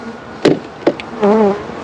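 Honey bees at a swarm box buzz in short close passes: two brief loud bursts, then a sustained wavering hum lasting a fraction of a second before it fades.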